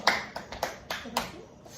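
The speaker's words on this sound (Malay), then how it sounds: "Tepuk tangan" Children in an early-childhood classroom clap their hands in a few quick, light bursts, four or five sharp claps spaced unevenly, fairly faint with a little room echo.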